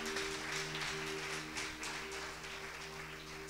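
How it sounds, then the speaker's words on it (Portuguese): A church congregation gives a round of applause, a steady wash of clapping heard fairly faint and at a distance, running unbroken without any talk over it. "Uma salva de palmas para Ele."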